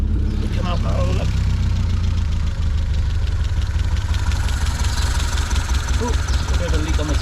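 Triumph Spitfire 1500 engine idles with the choke off after a water pump change, holding a steady, close, loud rumble throughout, with brief voices mixed in.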